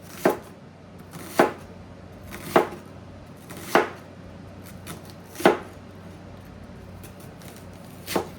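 A knife slices through an onion on a cutting board, giving six evenly spaced, crisp thuds about a second apart, close and clear over a quiet background.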